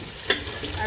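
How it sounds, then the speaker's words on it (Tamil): Capsicum sautéing in a hot pan for chicken fried rice, a steady close sizzle with one brief stir clack partway through. "அது கேப்சிகம் 2 நிமிஷம் நல்லா வதக்கிட்டு அடுத்து காய் போட்டுக்கலாம்."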